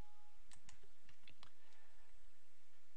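Several quick computer mouse clicks close up in a quiet room, a short irregular cluster of sharp taps followed by low background hum.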